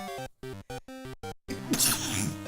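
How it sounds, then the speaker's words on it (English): A person gives several choppy, rising breaths and then releases one loud, explosive sneeze, close by. "I think the scratching's making me start to sneeze."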